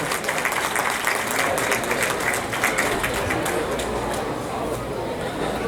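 Audience applause fills a hall at an Independence Day international mushaira, welcoming Fayyaz Khan, president of Anjuman Taqdees-e-Adab, to the stage. The clapping is steady and sustained, with a faint murmur of crowd chatter underneath.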